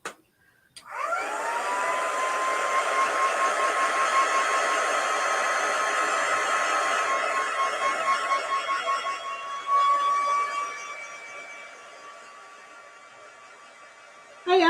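A hair dryer blows steadily on a chalk transfer, giving a loud, continuous whooshing hum with a high tonal whine for more than ten seconds before it cuts off abruptly.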